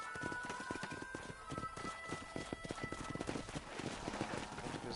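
Hooves of a horse being ridden in the Western video game Red Dead Redemption beat in a quick, steady clip-clop rhythm, fairly faint, with a soft sustained tone running underneath.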